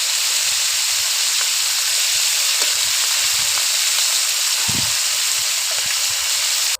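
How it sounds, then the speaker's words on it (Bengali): Crab frying in hot oil with salt and turmeric gives a loud, dense, continuous sizzle and hiss close up, steady throughout with faint crackles and no voices. "কাঁকড়াটা লবণ হলুদ দিয়ে আমি ভেজে নেব।"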